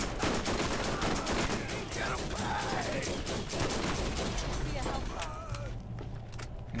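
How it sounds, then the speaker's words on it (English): Enemy gunfire in the Borderlands video game, rapid automatic bursts crackling continuously at close range, layered with game effects and a voice talking over the shooting. "Stop shooting at us."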